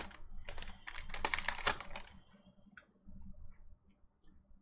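Crinkly tearing and rustling of a Dollar Tree Pokemon card pack wrapper being pulled open, loud and dense for two seconds, then fading to faint scattered rustles.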